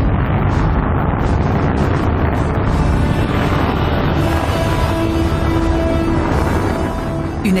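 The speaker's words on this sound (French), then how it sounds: "En juillet 1969, en Floride, une incroyable déflagration perturbe le calme matinal." The Apollo 11 rocket launch in Florida in July 1969 produces a loud, continuous, heavy roar, a dense rumbling blast that stays powerful and steady throughout.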